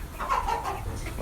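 Large hens and roosters in a winter coop cluck and call close by, with a busy, continuous cackling texture.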